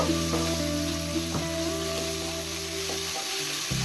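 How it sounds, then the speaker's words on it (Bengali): Marinated chicken pieces frying in oil on a high gas flame for restaurant-style mixed fried rice, giving a steady close sizzle with occasional clinks and scrapes of stirring, alone without talk. "গ্যাসের ফ্লেমটা হাইতেই রেখে আমি চিকেনগুলোকে ভেজে নেব"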